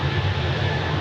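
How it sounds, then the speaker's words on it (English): A Swiss Airbus A220 airliner departs runway 28 at Zurich Airport, its steady low jet roar filling the short stretch at a moderate distance without a break. "next departure on runway 28. The Swiss A230."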